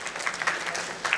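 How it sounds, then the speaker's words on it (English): Conference audience applauding panelists at a discussion on green businesses, a brief burst of steady hand clapping with a voice faintly underneath. "keep that applause going for our panelists for this panel"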